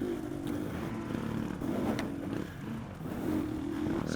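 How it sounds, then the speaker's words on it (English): A dirt bike engine revs in a TORCS harescramble racing game on the Powell Ranch track, a steady low motor drone that rises and falls slightly, moderately loud with no voices. "Somebody's back there revving already."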